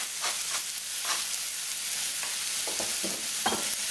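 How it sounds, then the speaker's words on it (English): Snow peas go into a sizzling spicy beef noodle stir-fry, a loud continuous hiss of hot oil with repeated tossing and spatula scrapes, close up and without speech. "I'm going to toss in those snow peas now."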